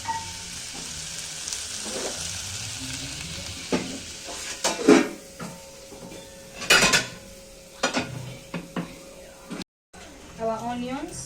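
Biryani ingredients cook in a pan with a light sizzle, broken by clinks and scrapes of utensils against cookware, while a person talks close by and the sound cuts out for a moment near the end.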